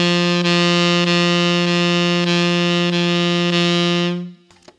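A saxophone holds a steady middle G, restarted with soft legato tonguing about six times in a smooth, even pulse, close and loud and alone, then the tone fades out.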